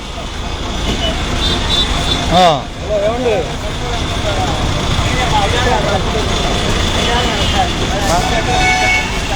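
A bus on the Tenali to Veltur route in Andhra Pradesh, with steady road and engine rumble, a brief honk or toot, and passengers talking throughout.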